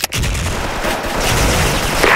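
A grenade blast in the video game Soldier Front: a sharp loud bang at the start, then a dense roaring rumble of gunfire and explosion noise that fills the rest, close and heavy, with no voices.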